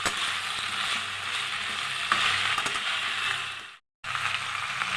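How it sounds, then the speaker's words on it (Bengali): A spatula scrapes and stirs mixed vegetables frying in a pan for a Bengali chhyachra, giving a steady sizzling hiss with rattling scrapes that stops briefly near the end. "এবার সবজিটা আমি মিশিয়ে দিলাম।"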